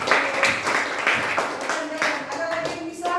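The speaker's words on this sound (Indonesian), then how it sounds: "Berikan aplaus yang meriah." Students in a classroom clap for a classmate, scattered, fairly close applause mixed with voices talking.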